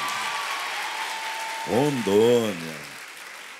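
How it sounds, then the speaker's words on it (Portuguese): A studio audience on a Brazilian televised singing show applauds in a soft, steady wash of clapping, and a voice briefly speaks over it near the end. "Alô, Rondônia, aqueles aplausos."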